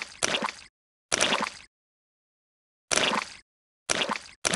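Cartoon pigs jump up and down in muddy puddles, giving loud, close, wet slapping splashes in four separate bursts split by brief silences.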